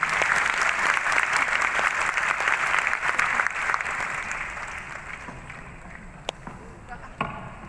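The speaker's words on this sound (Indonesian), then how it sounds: "Ya, mari kita sambut dengan tepuk tangan." Audience applause in a church hall at a GBI synod closing ceremony, greeting a government minister after a souvenir presentation; steady dense clapping from a sizable crowd that gradually thins and fades, with a few late isolated claps.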